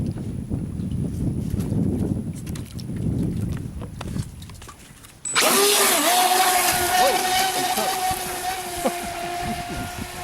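Splashing and talk give way to the small brushless electric motor of a UDIRC RC boat on the water suddenly whining up to a high, steady pitch, running loud and close for several seconds.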